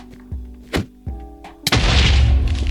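A video game explosion: a few separate low thuds, then one loud blast whose deep rumble and hiss carry on steadily to the end.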